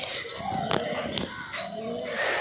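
Soft pigeon cooing with a few bird chirps and faint whistles, over a steady outdoor background hiss.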